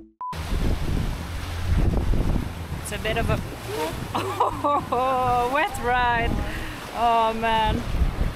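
A boat travelling on an Amazon river in the rain in Peru's Manu National Park, its steady engine and wind roar filling the clip close to the microphone, with voices talking over it partway through.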